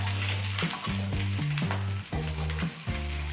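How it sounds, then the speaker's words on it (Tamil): Marinated fish sizzles in a little coconut oil on a non-stick tava over a medium flame, with a steady close frying hiss broken by rhythmic stirring or turning scrapes, and no talking. "தேங்காய் எண்ணெய் கொஞ்சமாக ஊற்றிட்டு அதுக்கப்புறமா நம்ம கலக்கி வச்சுருக்கிற அந்த ஊறின மீன் எடுத்து போடுறோம்"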